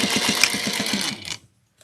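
Sewing machine stitching beside the zipper of a clutch wallet, a close, fast rhythmic whir of needle strokes lasting over a second before stopping abruptly, followed by a faint click.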